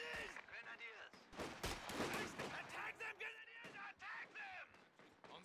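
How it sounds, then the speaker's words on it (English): Gunfire rattles in a war video game, with bursts of shots and heavy thuds mixed under busy game voice lines and radio-style callouts from the battlefield. "Enemy machine gun."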